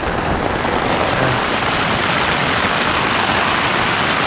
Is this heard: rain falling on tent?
yes